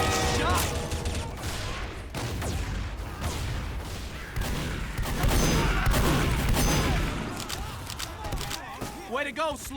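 Rapid gunfire and explosions from a Team Fortress 2 match, dense bursts of shots and booms overlapping with excited talking throughout.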